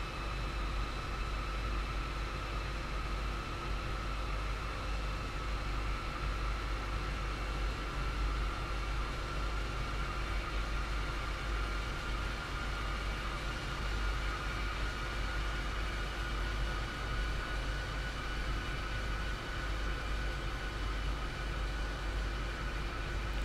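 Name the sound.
train running in Train Sim World: Rapid Transit video game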